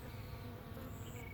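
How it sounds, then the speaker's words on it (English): Bees buzzing close by as they gather pollen in a South Florida garden, a brief, continuous droning hum with no talking. "these girls are collecting a lot of pollen. I hope I don't get stung"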